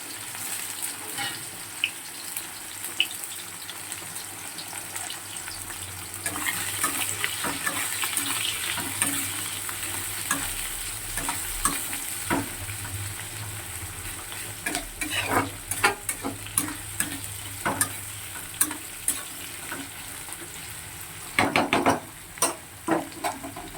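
Ingredients go into hot oil in a pan for a fish curry. A continuous sizzle runs throughout, broken by stirring clatter and a few louder utensil knocks near the end, with no talk.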